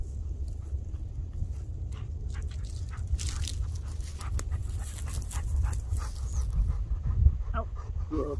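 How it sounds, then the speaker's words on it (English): A versatile hunting dog panting steadily after a retrieve during field training, rapid rhythmic breaths close by with a few faint whimpers, over a soft low outdoor rumble. "Boy, that's a good dog."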